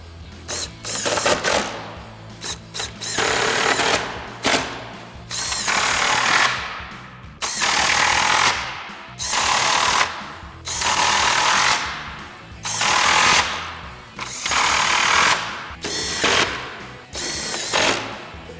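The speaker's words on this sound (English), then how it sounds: "Now we're going to grab all of our 10mm bolts and our 10mm socket and reinstall all this hardware." A power tool with a 10mm socket drives bolts during a 2019–2024 RAM 2500 headlight install, in loud repeated bursts of ratcheting whir of one to two seconds each, separated by short pauses, close up.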